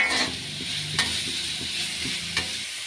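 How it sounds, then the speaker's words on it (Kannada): Sliced onions sizzle in a pan of shallow oil for cabbage Manchurian, with steady frying crackle and a few sharp scrapes of a spoon stirring them, close and fairly loud, no voices. "ಈಗ ಈರುಳ್ಳಿ ಸೇರಿಸ್ಕೊಳ್ಳೋಣ. ಮಿಕ್ಸ್ ಮಾಡೋಣ ಒಂದ್ಸಲ."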